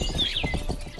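Horse hooves in the video game Rustler clip-clopping in a steady walking rhythm, close and continuous, with a faint high chirp over the top and no talking.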